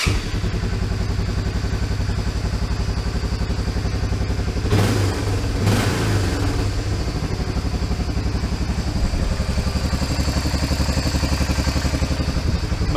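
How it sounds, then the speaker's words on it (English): A Honda 300 engine, freshly carburetor-tuned, idles steadily and close by with a throbbing low rumble, broken by a brief clattering burst midway before settling back into an even run. "Motor sounds great on it."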